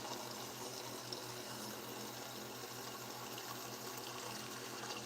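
Water flows steadily from a tap in the Age of Empires mobile game, a constant even rush with no breaks.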